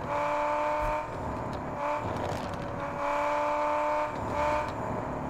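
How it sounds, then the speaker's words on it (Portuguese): A V8 car engine in the Car Parking Multiplayer mobile driving game revs steadily and loudly, its tone swelling and easing a few times over several seconds with no talk. "Eles melhoraram o barulho do V8"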